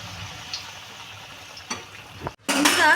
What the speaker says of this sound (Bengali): আমার তেলটা গরম হয়ে গেছে এবার আমি এক এক করে মাছগুলো ছেড়ে দেবো